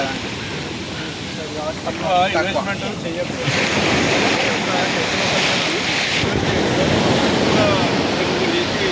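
Ocean surf washes steadily along a beach, with rushing wave noise and gusts of wind buffeting the microphone while someone speaks over it.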